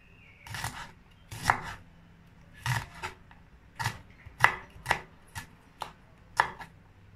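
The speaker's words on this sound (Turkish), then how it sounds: "Bu şekilde doğrayalım." Green beans being sliced with a knife on a board, about a dozen crisp, separate chopping strokes at an uneven rhythm, close and clear with no talking.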